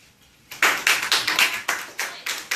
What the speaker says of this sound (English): If you can hold the applause until the end